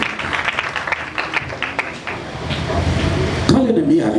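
A church congregation claps and acclaims the Lord during a French-language sermon, a moderate patter of hands and voices that builds toward the end with talk mixed in.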